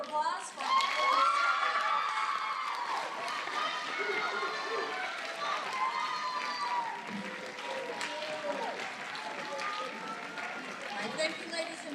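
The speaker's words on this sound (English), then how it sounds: "let's give a big round of applause for" Sustained audience applause mixed with cheering and whoops at an eighth grade awards ceremony, a steady loud wash of clapping lasting throughout with excited voices rising above it.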